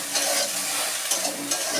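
Cut okra frying and being stirred in a pan with salt and turmeric: dense crackling sizzle with quick repeated scraping strokes of a spoon, close and steady, no voices.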